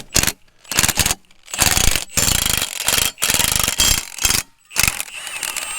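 Bolts being removed from the dirt guard on the sprocket pillow block of a Caterpillar RD-6 crawler tractor, heard as loud, close bursts of rattling, clattering impact-tool noise separated by short silent gaps, with no talking.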